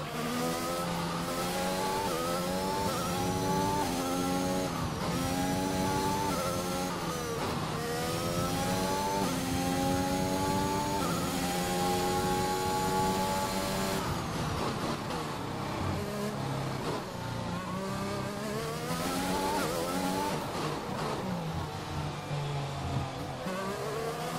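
F1 race car engine in a video game, a loud, steady high-pitched whine that climbs repeatedly through the gears and drops on each shift, continuous for the whole stretch with no talking.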